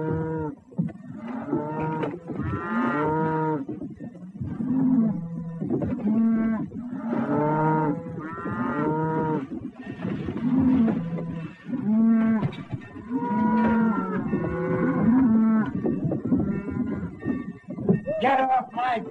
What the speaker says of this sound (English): I hear cattle move.